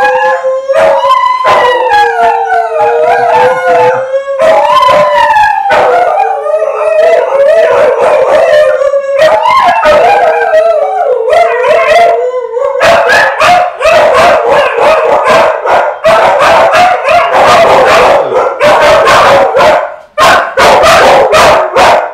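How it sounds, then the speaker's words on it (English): Several dogs howl and bark together, close and loud, drawn-out wavering howls mixed with dense repeated barks and yips that continue without a break. "That's my dog."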